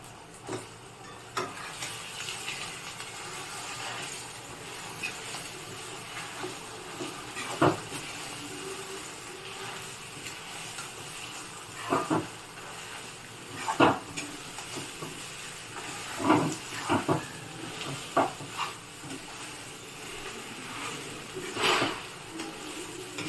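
A spoon stirs a yogurt and rice flour batter in a pan, making soft scrapes and taps at irregular moments over a faint sizzle, close by with no talking.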